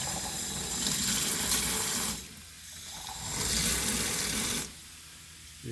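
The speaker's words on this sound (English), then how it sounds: "I have a utility sink and a garden hose with an attachment." A garden hose with a spray attachment blasts water into a utility sink in two long bursts separated by a brief pause, a loud close hiss and splatter against the basin.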